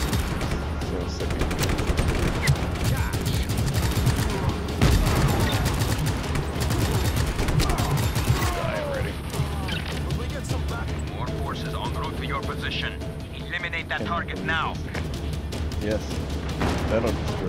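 Bridge being blown apart in Just Cause 3, with dense, continuous gunfire and explosive booms rumbling through the first half, then lingering crashes and debris under excited talk from several players.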